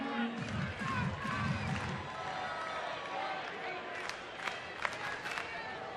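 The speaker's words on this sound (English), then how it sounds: "it's the loudest the crowd's been today" A baseball crowd at a New York Yankees spring training game against Atlanta: a broad, sustained roar of cheering builds and holds, mid-distance, with an announcer talking over it.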